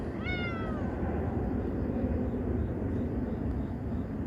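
A stray street cat gives a single clear meow near the start, falling in pitch, then only steady outdoor background noise continues.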